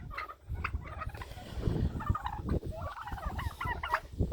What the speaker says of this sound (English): Turkeys are going crazy though.